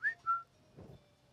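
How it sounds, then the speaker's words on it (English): Two short, clear whistled notes from a magician performing a card trick at a live show, the first rising and the second held steady, followed by quiet room noise. "Happens when I whistle."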